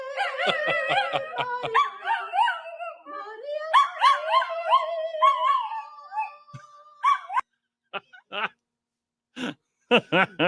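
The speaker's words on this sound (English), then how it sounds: "She's trying to sing Ave Maria, and then the dog joins in." A dog howls and yips in wavering tones alongside a person singing Ave Maria, the two voices overlapping, followed by scattered short whines and yelps.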